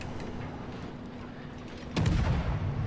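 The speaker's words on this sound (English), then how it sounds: "I fire this salvo blind here" A warship gun salvo fired from USS Atlanta in World of Warships: a single loud, heavy boom that breaks in partway through, over a steady in-game background rumble, with no talk.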